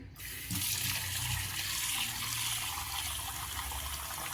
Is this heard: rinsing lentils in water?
yes